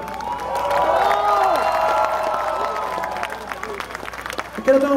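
A live concert crowd in Lima applauds and cheers for a drummer, steady clapping and shouts filling the hall for several seconds before thinning out, with voices calling out over it.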